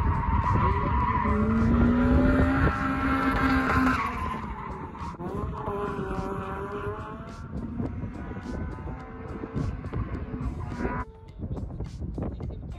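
A Toyota AE86 with a 3S-GE engine and beam swap skids around a race track, its tires squealing in long sustained pitches over a loud, steady engine roar that continues throughout.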